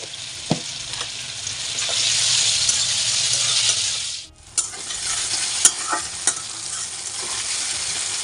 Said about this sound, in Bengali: এখানে আমার টমেটো আর পেঁয়াজ কুচি ভাজা হয়ে গেছে